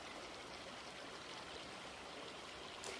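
A steady, even rush of a shallow stream near Corbett Fall in Uttarakhand flows continuously at moderate distance, with no voices over the water.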